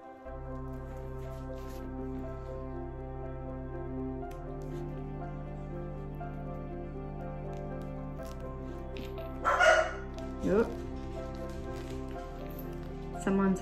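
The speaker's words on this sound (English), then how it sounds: "Dogs are barking." A few sharp dog barks in the distance, brief and spaced apart, over a steady low hum.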